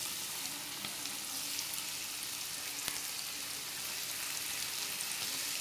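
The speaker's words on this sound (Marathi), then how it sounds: "हे पण तसेच तळून घ्यायचे मस्त." Pieces of bitter gourd fry in hot oil, giving a steady, loud, even sizzle with faint crackles throughout and no talking.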